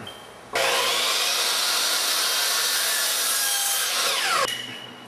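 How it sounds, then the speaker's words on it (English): A saw cuts through cabinet light rail molding in one loud, continuous stroke lasting about four seconds, close up and with no talking. "I'll line my blade up with it. And you make a nice clean cut."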